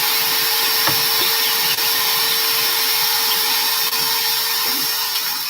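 A household vacuum cleaner runs continuously with a steady high-pitched whine and airy roar, close and loud, with a few faint knocks as it moves, and no voices heard.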